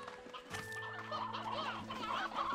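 Several chickens in Slime Rancher 2 cluck and squawk in short bursts over a low steady hum, fairly close, with no talking.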